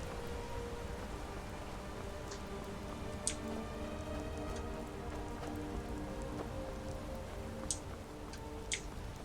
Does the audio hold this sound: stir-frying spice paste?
no